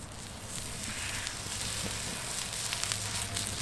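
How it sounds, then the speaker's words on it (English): A fatty steak sizzles on a Breeo X Series Sear Plate, its rendering fat giving a steady, dense crackling hiss that stays close and continuous with no voices. "as the steak cooks, the fat will render down and will provide plenty of lubrication for the steak"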